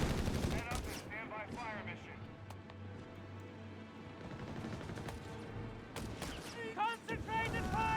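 Mixed gunfire of Browning machine guns, M1 Garand rifles and a Thompson in the Company of Heroes 3 video game, steady rattling volleys and pops under continuous excited commentary.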